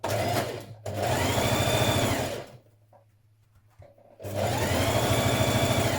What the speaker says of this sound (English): We're going to stitch that in position now.